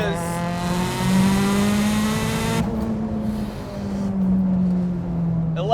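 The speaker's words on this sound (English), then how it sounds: "Let's do a third gear pull here." A 650 wheel-horsepower Mitsubishi Evo 8 makes a third-gear pull down a straight road, its engine note loud and close, climbing steadily in pitch, then dipping briefly before rising again.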